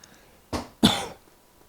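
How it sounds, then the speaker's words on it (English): Two quick, close coughs from a person recording late at night, a short one followed by a stronger, slightly longer one, then quiet. "Apparently I start kind of coughing too when I'm recording late."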